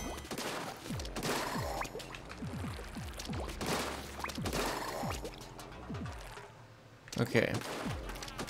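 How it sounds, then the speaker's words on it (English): Bombs thrown at enemies in the Splatoon 2 Octo Expansion produce repeated bursts of splattering blasts and falling whistles in quick succession, fairly dense and mid-loud, amid game sound effects. "let's throw bombs at these guys."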